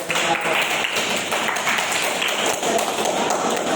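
A classroom of students claps briefly during an Islamic creed and ethics lesson, a steady dense patter lasting a few seconds, with some chatter mixed in.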